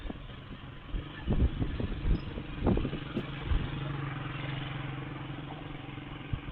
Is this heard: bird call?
no